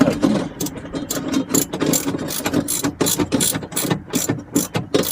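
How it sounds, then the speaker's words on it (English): Rapid ratchet clicks from a wrench tightening nuts on the bolts of a Pengor Penguin steering assembly, close and steady in repeated bursts with no talk. "Tighten one really tight until they're all fairly snug."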